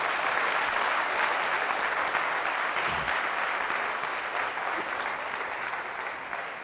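A congregation at a Christian healing service claps loudly in continuous applause that holds steady and then slowly fades a little toward the end.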